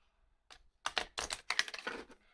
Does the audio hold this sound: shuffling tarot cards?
yes